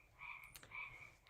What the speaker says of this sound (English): Those frogs are distracting me.